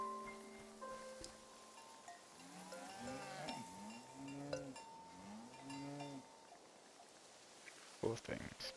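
Cattle moo repeatedly in a series of long, drawn-out calls at moderate distance, with a cowbell-like clank and low ambient noise around them, and a brief clatter near the end.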